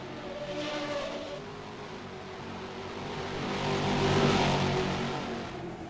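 Race cars run side by side at the Tarumã circuit, engines droning loud and close with a steady roar that swells to a peak as they pass, then eases off, with no talking.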